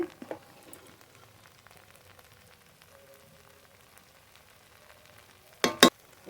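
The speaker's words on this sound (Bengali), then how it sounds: "একটু হাতা দিয়ে হালকা করে ঘুটে নেব" Boiled pea lentils (motor dal) get a light stir with a ladle in a home kitchen: soft, faint scraping and sloshing, with a couple of louder clunks of the ladle near the start and end.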